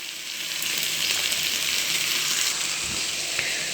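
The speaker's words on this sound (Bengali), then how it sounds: "সব কিছু ভালো করে মিশিয়ে ভালো করে মশলাটাকে কষিয়ে নেব" Turmeric and salt fry with spice masala in a hot pan for a mackerel curry, giving a dense, steady sizzle with a faint scrape of stirring, close and fairly loud with no voices.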